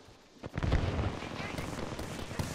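Gunfire in Apex Legends, a rapid burst of shots starting abruptly and continuing as a dense, fairly faint rattle with other game noise.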